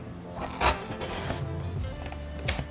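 Cardboard being trimmed along its sides to fit an embroidery hoop, a close, rough rubbing and cutting sound with a couple of sharper crunchy strokes.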